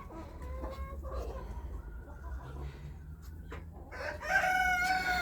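A hen clucking and straining while laying an egg in a farmyard coop, with low repeated clucks rising to a louder, drawn-out cackle near the end over faint background noise.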